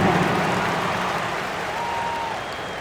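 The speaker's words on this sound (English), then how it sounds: "Big round of applause." Crowd applause from the arena in an NBA 2K26 Lakers versus Knicks basketball game. It is a steady, even wash of clapping that sounds distant and fades slightly.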